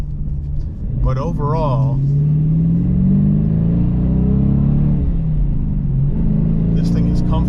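A 2019 Dodge Challenger R/T with a six-speed Tremec manual gearbox rumbles and rises through the revs from inside the cabin, with the pitch sliding up and dropping at a shift. Someone talks over it.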